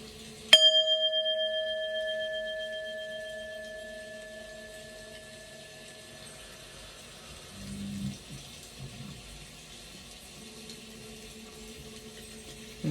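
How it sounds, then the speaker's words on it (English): A single struck bell used to clear energy before a tarot reading, one clear metallic strike with a pure ringing tone that slowly fades over several seconds, close and alone in a quiet room. "So let's ring the bell, clear your energy,"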